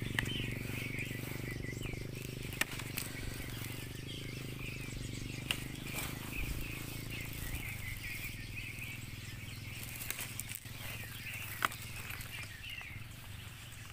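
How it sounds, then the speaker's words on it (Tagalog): Birds chirp from the trees at a forest harvesting spot, scattered high tweets over a steady low outdoor hum, faint and continuous with a few sharp clicks. "May ingay ng ibon dito ah."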